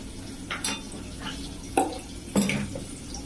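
Fish cutlet mixture being mixed by hand with turmeric, chilli powder and spices in a bowl: soft squelching and a few sharp clinks against the bowl, quiet and close, with no talking.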